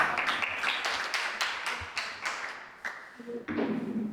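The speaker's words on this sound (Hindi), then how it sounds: "तालियां और जोरदार" An audience at a Jain religious discourse claps in a series of loud, fairly close bursts, irregular rather than a steady roll, fading slightly before a final burst.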